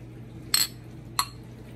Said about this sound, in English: I'm going to transfer it to a shot glass to drink it, because this glass is still warm.